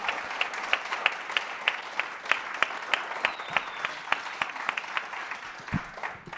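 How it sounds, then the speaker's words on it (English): An audience at a conference session applauds a panel, with steady, dense clapping from a crowd that carries on for several seconds at moderate loudness, with no speech on top. "I want to get up and give this panel a great round of applause"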